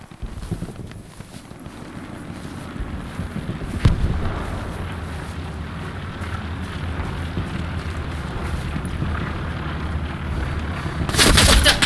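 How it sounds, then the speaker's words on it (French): Distant machine gun fire from a bunker in a WWII-style multiplayer game set on Utah, a steady rumbling battle bed with a sharp report near four seconds and a burst of crackling shots at the end. "Il y a une MG. Elle tire de loin depuis le bunker sur le point fort."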